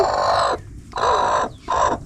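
Broody hen sitting on eggs in a chicken coop, giving three loud, close, drawn-out growling clucks separated by short pauses.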